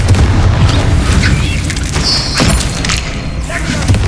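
Spell explosion from the Confringo fire spell during combat in the video game Hogwarts Legacy, a loud booming burst set within a dense, continuous layer of battle noise and effects.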